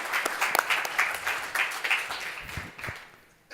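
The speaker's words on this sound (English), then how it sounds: "Round of applause." Applause from a live audience as a presenter for a Sri Lanka Gold beverage is welcomed on stage at a new beverage competition semifinal, steady clapping from many hands that thins and fades toward the end.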